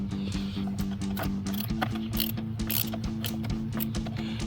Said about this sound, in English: Now you have 2 T15 Torx screws, one here and one here you need to take off.